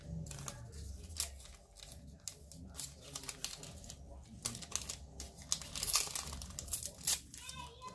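Brown hardware-store paper crinkles and rustles up close as it is handled and snipped with scissors while binding a jute journal, a quiet, continuous run of crackles and cutting strokes.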